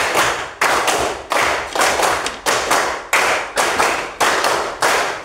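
A group of students in an artificial intelligence class claps in a counted rhythm, sharp loud bursts of claps in repeated sets separated by brief pauses, close and punchy with no talk.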